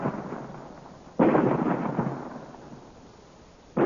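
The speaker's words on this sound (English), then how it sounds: "Fire! Look, the rock is splitting." In an old-time radio drama, a ray blast splits a rock with a sudden loud rumbling boom that rolls off slowly, and a second burst starts right at the end, with no voices over it.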